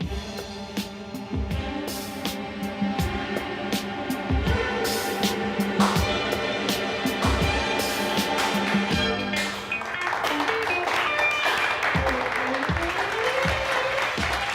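Applause breaks out in a Turkish comedy workplace scene, a steady sustained clapping from a small group lasting many seconds under light background music.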